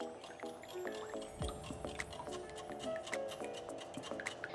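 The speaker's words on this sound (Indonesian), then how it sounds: "Kita diaduk sebentar dulu." Cake batter for an ogura sponge being stirred with oil in a bowl, giving soft wet squishes and quick tapping clicks in a steady rhythm, close and quiet with no talking.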